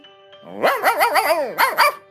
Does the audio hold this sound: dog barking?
yes